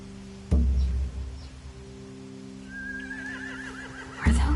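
Horses neigh in The Walking Dead: The Final Season video game, a whinny with a wavering pitch rising over a steady low hum, framed by two sharp thumps at the start and end.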